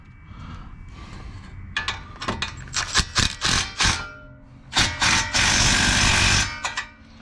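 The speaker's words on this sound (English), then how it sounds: "Then we'll get it tight with the impact" An impact wrench hammering a CV axle nut tight on a 2014 Ford Escape, several short loud rattling bursts with pauses between, ending in one longer sustained burst.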